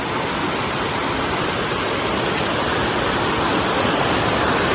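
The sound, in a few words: waterfall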